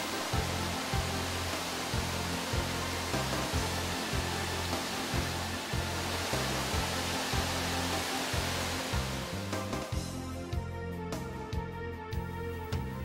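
The Kimundo waterfall near Lake Toya roars with a dense, even rush of falling water that fills the whole span, with a steady rhythmic music beat running underneath.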